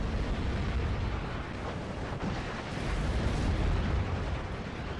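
Rumbling air strike explosions from a Typhoon in the Normandy 1944 war game Steel Division, loud dense booms and roar rolling continuously with no pause.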